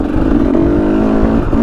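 KTM 300 two-stroke dirt bike engine running and revving steadily on a Utah single-track trail, loud and close with a buzzing, sustained drone.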